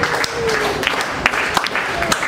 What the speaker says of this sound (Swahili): Yesu makofi utukufu tena.